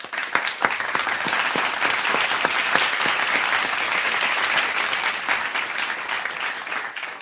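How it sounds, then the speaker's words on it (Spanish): An audience breaks into steady, dense applause with sharp individual claps that holds at full strength throughout, then tapers slightly at the end, with no voices over it. "El aplauso, por favor, para ustedes"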